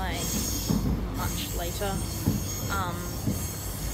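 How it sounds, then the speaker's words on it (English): Interior of a passenger train travelling out to Fairfield from Melbourne, with a steady rumble and rail noise, brief squealing wheel tones, and a few people talking in the carriage. "I'm now on the train out to Fairfield"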